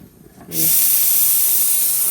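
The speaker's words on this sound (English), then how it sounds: "Blowing out the steam." A steam iron blasts a sudden, loud, sustained hiss while pressing bulky quilt seams, starting after a brief quiet moment and continuing steadily to the end.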